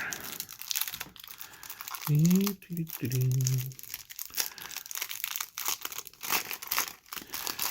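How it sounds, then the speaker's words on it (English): Plastic wrapping on a pack of caption cards for a Deadpool vs. The World card game crinkles and tears through most of the stretch, close and fairly loud, broken by brief talk in the middle. "And go to the next pack of caption cards. And get these open here."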